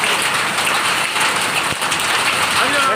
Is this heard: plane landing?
no